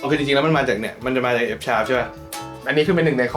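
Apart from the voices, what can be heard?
No everyday noises stand out.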